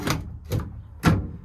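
Small drawers in a work van being opened and shut, three short knocking slides spaced about half a second apart, close and fairly loud.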